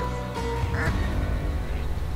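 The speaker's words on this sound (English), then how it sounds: "Here comes ducks." Wild ducks quack overhead during a waterfowl hunt in Manitoba, a few distinct nasal calls in quick succession early on, then a continuous outdoor rumble with no speech.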